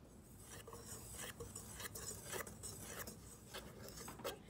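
Dry cookie ingredients, cocoa powder and baking powder, are stirred together in a bowl, a faint soft scraping and rubbing with light taps of the utensil.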